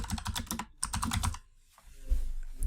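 Someone types hello world on a computer keyboard for a Scratch say block: a quick burst of close, crisp keystrokes, a short pause, another run of taps, then near silence and a final few clicks.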